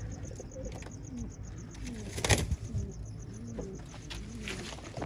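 Desi and fancy pigeons, mixed Punjabi birds kept for sale, coo softly in repeated low calls, with a brief burst of wing flapping midway and faint chirps around them.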